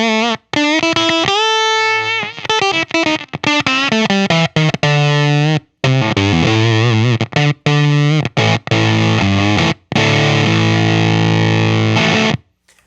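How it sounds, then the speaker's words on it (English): An electric guitar runs through an EarthQuaker Dirt Transmitter fuzz pedal set to low bias, producing loud, gated, sputtering fuzz. Phrases of notes and chords choke off abruptly into brief silences, with a raspy, Velcro-like texture. "So you can hear the bias in those low settings really gets kind of Velcro-like,"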